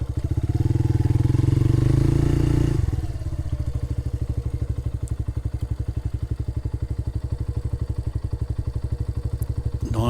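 A small motorcycle with a grunty Black Widow aftermarket exhaust, heard up close. A loud revving burst is followed by a steady, throbbing idle with a rapid, even pulse that continues to the end.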